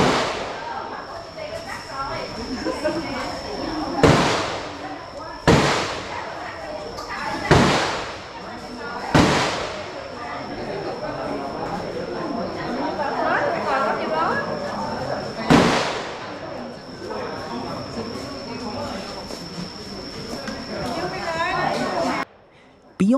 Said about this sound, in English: for those who wish to do some target shooting at an extra fee